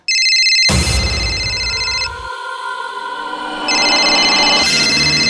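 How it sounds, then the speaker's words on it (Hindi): A phone rings with a loud electronic tone that repeats steadily and fills the scene. Layered musical underscore from a Mumbai crime drama episode sounds under it, and no one speaks. "तेरे जिगरी दोस्त करण का ही फोन होगा, उठा ले।"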